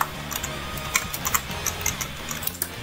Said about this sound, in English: Are you typing a whole essay?